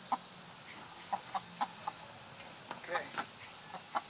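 Two escaped chickens cluck in a yard, a handful of short, moderately close clucks spaced irregularly over a quiet outdoor background.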